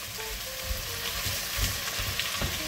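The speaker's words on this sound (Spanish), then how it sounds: "y lo vamos a dejar que sofría" Green pepper and celery sautéing in a pan for a vegetable and seafood soup, a steady close sizzle with soft stirring thumps, no talk.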